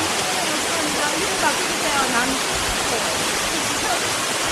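A roaring waterfall in Seoraksan's Heullimgol valley, swollen by rain, pours as a loud, unbroken rush of white noise that fills the whole space, with faint voices beneath it.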